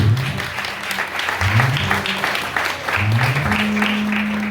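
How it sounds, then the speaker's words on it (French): A church congregation at an evangelical conference claps along, a busy wash of hands mixed with voices and sustained tones, steady and fairly loud throughout. "Applaudis mon Dieu, applaudis mon Dieu."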